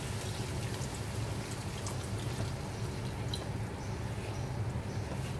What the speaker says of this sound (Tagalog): Ayan po, lalagyan po natin tubig.